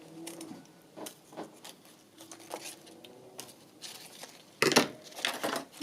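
Scissors snipping through lace, a series of irregular short crisp cuts and rustles, close and fairly quiet, with a louder crunchy burst near the end.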